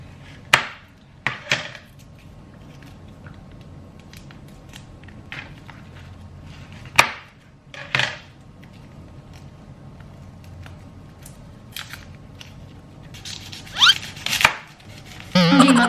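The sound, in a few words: knife chopping onions on a board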